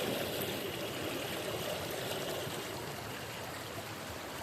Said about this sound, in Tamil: ஆற்றுல தண்ணி வேகமாக போயிட்டு இருக்கிறதுனால சவுண்டு கேட்க மாட்டேங்குது